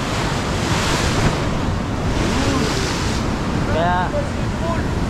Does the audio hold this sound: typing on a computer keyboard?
no